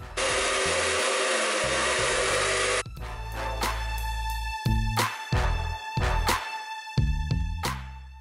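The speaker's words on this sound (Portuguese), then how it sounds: "Esse difusor, ele já veio com esse secador." Handheld hair dryer fitted with a diffuser attachment, drying curly hair in a wash-and-go routine: steady loud blowing roar for about three seconds, then a lower hum broken by repeated rustling and handling bursts, with no talk.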